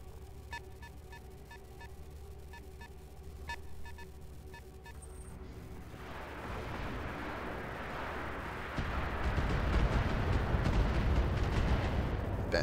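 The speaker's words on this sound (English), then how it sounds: "Ben taking some missile fire." Missile fire in the mech combat game BattleTech: a low rumbling barrage of impacts swells in after a stretch of quieter mechanical hum, growing louder and denser toward the end, with no talk.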